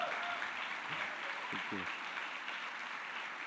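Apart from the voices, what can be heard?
graduation audience applause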